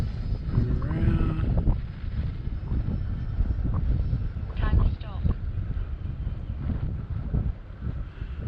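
Gusty wind buffeting a microphone in a roaring, uneven rush that swells and eases, with voices and a faint mechanical hum underneath.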